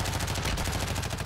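Gunfire in Call of Duty Warzone 2.0, a rapid string of sharp shots in quick succession, loud and close, with no talk over it.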